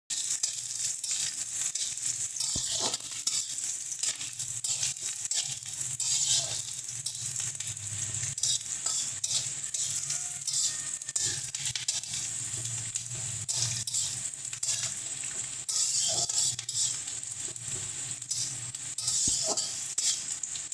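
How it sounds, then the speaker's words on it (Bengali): Sliced onion fries in hot oil in a kadai wok for an egg dish, making a continuous close sizzle. Occasional scraping and stirring sounds run through the sizzle, with no talking. "এবার এর মধ্যে আমরা পেঁয়াজটা দিয়ে দিচ্ছি।"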